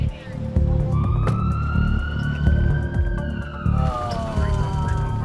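An ambulance siren wails in long rising and falling sweeps as the ambulance sets off, loud and close over a deep, steady engine rumble.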